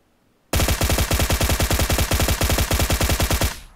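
Full-auto bursts from an M762 Beryl rifle in a shooting game, a loud, close, rapid stream of shots lasting about three seconds after a silent start, then cutting off abruptly with no talking.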